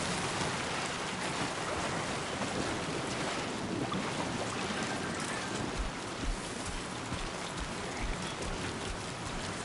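Steady, dense Timefall rain hisses without a break in Death Stranding 2, a constant wash of droplets with no voices over it.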